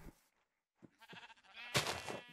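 Sheep in the Minecraft video game bleat in a few short, wavering calls, separated by brief silences and closing with a louder, harsher bleat, fairly close and alone.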